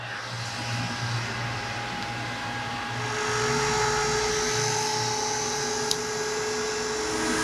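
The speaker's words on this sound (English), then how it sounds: "Where's the fuel prime pump? Fuel prime pump on." Fuel prime pump running aboard a Sundancer yacht that is taking on water, a steady loud electric whine with a low hum beneath, holding constant with one brief click near the end.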